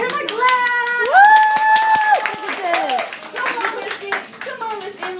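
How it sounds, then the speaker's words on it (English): Clapping from a group breaks out amid excited voices and singing-like tones, with bursts of hand claps scattered through the moment under lively talk. "Everybody clap!"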